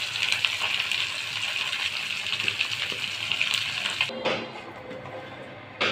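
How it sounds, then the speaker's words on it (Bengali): Pieces of rohu fish fry in a pan with a steady, loud hissing sizzle that fills the first four seconds, then drops sharply to a quieter crackle. "মাছ ভাজাটা আমার হয়ে গেছে,"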